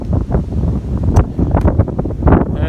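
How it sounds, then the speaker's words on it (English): Wind buffets the microphone in rough, uneven gusts, producing low rumbling thumps and blustery noise throughout. "it's getting windy. Hopefully you can't hear that"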